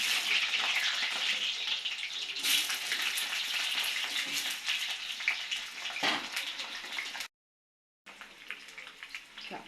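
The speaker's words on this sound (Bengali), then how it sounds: "তেল গরম হয়ে গেছে, আলুটা ভেজে নিব।" Cut potatoes fry in hot mustard oil, giving a continuous dense sizzle and crackle up close that breaks off briefly near the end before resuming.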